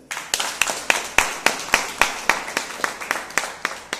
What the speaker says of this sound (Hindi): तो एक बार सबका ताली हो जाए